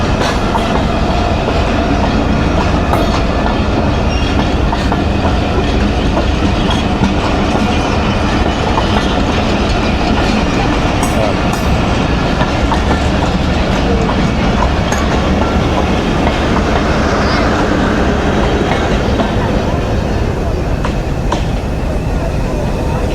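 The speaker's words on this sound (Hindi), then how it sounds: "जी हज़ारा एक्सप्रेस निकल गई दाला मूसा की तरफ।" Hazara Express train running through a small railway station without stopping, a loud continuous roar of wheels and carriages with steady clickety-clack, close by and sustained throughout.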